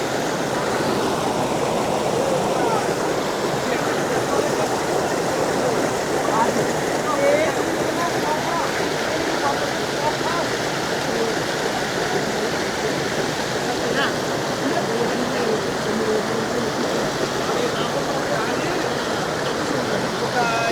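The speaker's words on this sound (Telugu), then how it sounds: "వాటర్ ఏ విధంగా ఫ్లో అవుతుందో చూడవచ్చు మీరు." Water pours steadily at Ramp Waterfalls in Maredumilli, a loud, continuous, even rush close by that carries through the whole stretch without a break.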